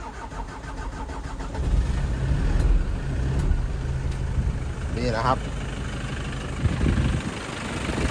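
A Toyota Tiger D4D diesel pickup engine turns over and settles into a steady, rumbling idle nearby while someone speaks briefly over it.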